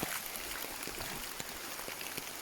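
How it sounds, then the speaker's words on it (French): Rain falls during a mountain hike across the Alps, a steady hiss of patter with scattered individual drops ticking close by, without voices. "Ça pleut, ça pleut, ça pleut, ça pleut, ça pleut, ça pleut."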